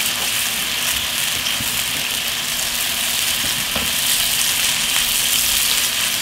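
Scallops sear in a hot pan of oil with lemon and garlic, a steady, loud, broadband sizzle that holds evenly throughout, with a few faint clicks from the pan.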